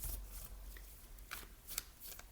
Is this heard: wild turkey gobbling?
no